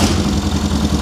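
A car engine cranking after its belt was tightened, a loud, continuous churning whir close by that does not catch and start.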